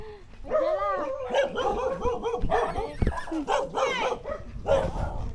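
Several dogs bark and yip close by in quick bursts at a backyard poultry farm, with people's voices mixed in throughout.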